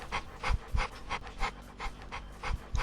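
Dog panting in the Roblox game Mad City, quick rhythmic breaths repeating steadily about three per second, close and clear with no talk.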